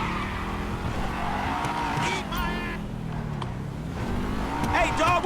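A car driven in the video game GTA 5 keeps its engine revving steadily, with a shifting pitch and brief tire skids. Players talk over it throughout.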